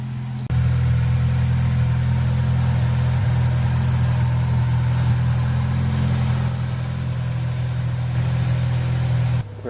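BMW M3 engine cranks and catches after a brief start, then settles into a steady, loud, close idle that holds evenly before cutting off near the end.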